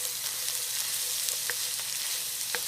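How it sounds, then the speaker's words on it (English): Cubed potatoes and carrots sizzle in a pot of cooked hamburger meat while a spoon stirs them, giving a steady frying hiss broken by soft scraping clicks at irregular intervals. "we're going to throw our potatoes and carrots in. Give everything a good stir."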